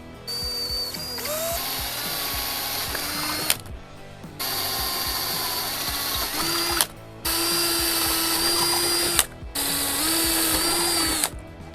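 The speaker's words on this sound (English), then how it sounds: "Now I'm gonna drill these holes out with a 1/4-inch drill bit" A power drill with a 1/4-inch bit runs in several sustained bursts with short pauses between them, a steady whining motor tone boring holes for a Mercedes Sprinter roof rack up close.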